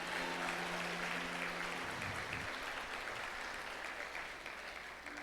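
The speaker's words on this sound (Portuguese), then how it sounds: "aplauda Ele nessa noite" A church congregation applauds during an evening healing service. The clapping is sustained and fairly distant, with low sustained tones from music early on, and it fades slightly toward the end.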